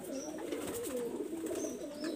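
A pair of teddy pigeons coos softly nearby, low repeated rolling calls running through the short stretch over faint background hiss.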